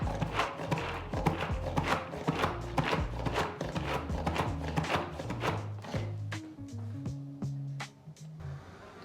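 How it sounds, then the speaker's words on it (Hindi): Onions being chopped in a food chopper, a busy run of rapid, close clattering chops with a steady blade whir beneath, continuing without pause to the end. "प्याज को हमने चॉपर में डाल दिया, इसको हम छोटे छोटे चॉप कर लेते हैं।"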